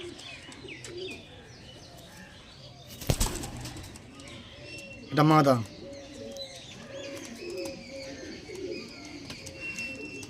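Pigeons coo softly in the background, with a sharp clap and a burst of flapping wings partway through; a person speaks briefly.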